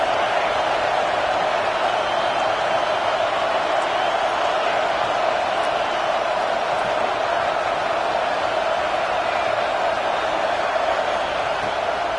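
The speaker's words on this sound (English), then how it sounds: "Man, this crowd really affecting the football game." A home crowd at a football game roars in a dense, unbroken wall of cheering and noise that stays loud and steady throughout, with no single voice standing out.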